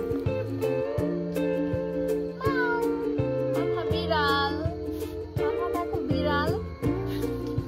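A cat meows repeatedly over steady background music, its cries rising and falling in pitch, close and fairly loud.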